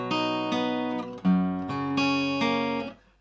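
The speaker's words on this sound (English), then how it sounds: "So the first bar of the bridge sounds like this." Guitar playing the opening bar of the bridge from a song: a steady run of about seven plucked notes and chord changes, ringing close and clear before cutting off, no voice.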